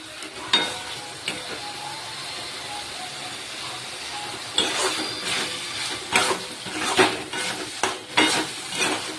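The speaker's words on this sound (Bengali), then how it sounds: "কিছুক্ষণ এটা ভালো করে কষিয়ে নিই" Chicken curry with onion, garlic, ginger and spices sautéed in a pan, a steady sizzle with scattered stirring scrapes that grow busier and louder in the second half, no voices.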